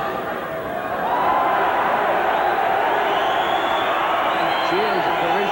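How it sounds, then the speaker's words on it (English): Boxing arena crowd at a title fight, a loud sustained roar of cheers mixed with jeering that swells after a moment, with a commentator talking over it. "Cheers and derision from the crowd as Eubank goes into his party pieces"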